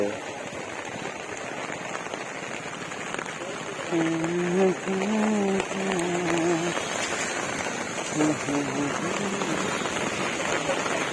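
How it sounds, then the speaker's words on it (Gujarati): Heavy rain patters steadily on surfaces throughout while vegetables are sold outdoors; a person talks over it in the middle, the downpour continuing underneath. "વરસાદ ફૂલ જ પડી રહેલો છે."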